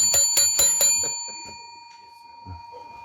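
A handbell rings out with a few clear, sustained metallic strikes that fade slowly, close and fairly loud, with some people talking in the background.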